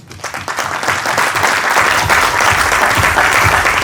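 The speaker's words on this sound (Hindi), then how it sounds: "आपके लिए एक बार मैं जोरदार ताली बजाता हूं" A crowd at a company gathering breaks into loud applause, the clapping quickly building from a few hands into a full, sustained roar of many people close by.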